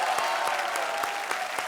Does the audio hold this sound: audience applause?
yes